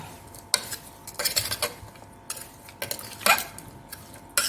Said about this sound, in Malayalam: നമ്മൾ ഇതിലേക്ക് ഇച്ചിരി കടുക് താളിച്ച് കൊടുക്കാം എന്നിട്ട് നന്നായിട്ട് ഇളക്കിയെടുക്കാം